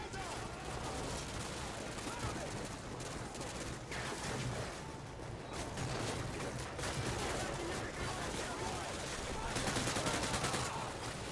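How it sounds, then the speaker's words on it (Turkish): Covering gunfire in a Call of Duty Modern Warfare 2 firefight roars continuously, dense overlapping rifle and machine-gun bursts rattling without pause for over ten seconds, with voices talking faintly underneath. "Koruma ateşi, hadi bakalım."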